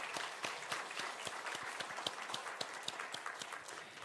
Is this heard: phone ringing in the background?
no